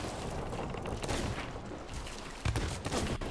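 Gunfire from a video game in which snipers fire during a duo naval battle, heard as dense continuous shooting with a sharp, louder burst of shots near the end and no voices.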